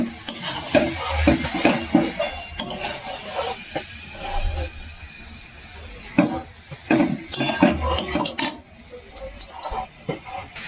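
Grated coconut being stirred in a pan while making Bengali pithe, with repeated scraping and clinking of a utensil against the metal and a faint sizzle underneath, close and uneven in rhythm.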